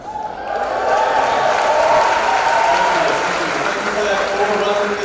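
A comedy show audience in Washington, DC bursts into sustained applause with some cheering, a dense steady roar of clapping that swells and holds for several seconds before a voice speaks over it.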